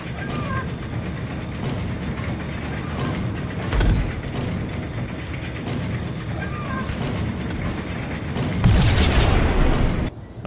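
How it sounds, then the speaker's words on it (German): Deep booming blasts from the Max Payne video game, one heavy burst near the middle and a louder, longer one near the end, over a steady rumble of in-game noise and gunfire-like clatter. "Wunderschöne Explosion mal wieder."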